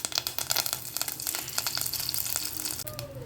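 A sprig of curry leaves crackles and sizzles in hot oil in a pan for tomato rasam, a busy close spitting hiss with small pops running throughout, no voice.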